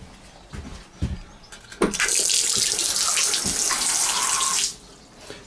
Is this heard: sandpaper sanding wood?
no